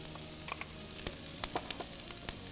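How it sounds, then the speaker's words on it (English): Peppers, onions and garlic sizzling in a pan for a fish-free paella, a steady close hiss broken by a few sharp crackles and spatters. "I'm going to add now my peppers"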